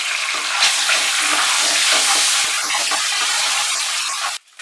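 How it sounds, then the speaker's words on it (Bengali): Eggs tinged with turmeric frying in oil for Bengali egg curry, a loud continuous sizzle and spatter that fills the whole stretch, then cuts off abruptly at the end. "ডিমগুলো ভালো করে ভেজে নিয়েছি।"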